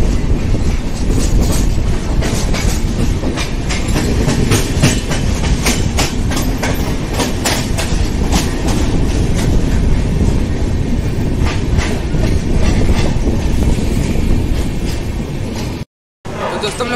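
Double-decker AC express train arriving at Valsad station, a loud steady rumble with rhythmic wheel clatter over the rail joints. A voice speaks over it.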